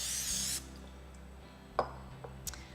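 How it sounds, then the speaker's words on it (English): A short hissing burst of nonstick cooking spray coats a food mold at the start, followed by quiet handling taps and light clicks. "spray your mold with nonstick cooking"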